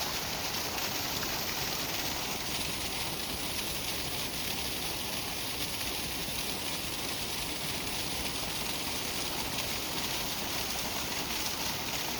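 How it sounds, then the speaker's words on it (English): Waterfall on a Minnesota hiking trail, a constant broadband rush of falling water, fairly soft and steady with no voices. "That waterfall, I could sit and listen to that all day."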